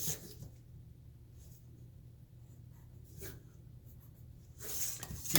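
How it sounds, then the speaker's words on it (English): Pencil drawing lines for an isometric sketch, a quiet scratchy stroke running steadily close by, with a few soft taps and a louder rustle near the end. "I'm gonna draw my lines over."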